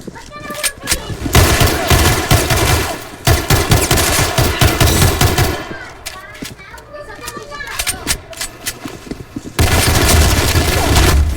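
Rapid bursts of toy or game gunfire rattling repeatedly, loud and close, mixed with children's shouting and chatter throughout.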